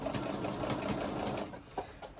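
Sewing machine stitching an open upholstery seam for a washable cover on an IKEA armchair or sofa, a steady fast whirring hum for about a second and a half, then stopping with a few soft clicks.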